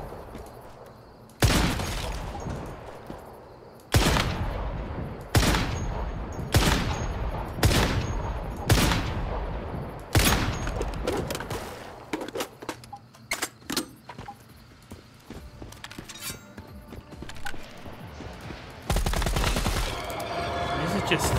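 Weapon fire in the Once Human shooter game: a series of loud, separate gunshots spaced a second or so apart, followed by quieter scattered clatter and one more heavy burst near the end.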